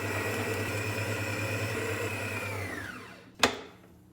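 A stand mixer kneads bread dough for milk bread rolls on low speed with a steady motor hum and whir, which winds down and stops, followed by a single sharp clunk.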